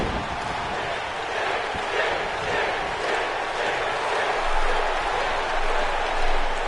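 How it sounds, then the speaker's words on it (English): A wrestling arena crowd in WWE 2K20 chants for Sting, a steady, fairly distant roar of many voices with swells and no clear beat. "Crowd chanting for Sting."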